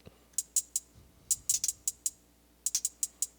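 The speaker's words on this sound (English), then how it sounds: "when I hit play, it should play my hi-hat." Crisp, short hi-hat sample from an Ensoniq ASR-10 sampler sequenced by FL Studio, ticking in quick clusters with brief pauses, fairly quiet over a low hum, with no talking.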